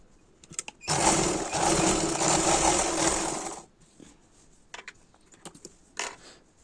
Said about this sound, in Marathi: त्याच्यानंतर परत अशी त्याला शिलाई देऊन घ्यायची